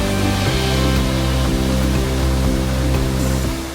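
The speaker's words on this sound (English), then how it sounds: "you will eventually be met by the loud sounds of crashing water" A waterfall in the Lake District pours down with a loud, dense rush of crashing water, a constant roar heard close by that fades slightly at the end.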